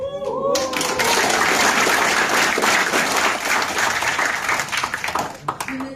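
A crowd claps hands in sustained, dense applause at an event in Bali, loud and close, tapering into a few scattered claps at the end, with a voice briefly heard at the start.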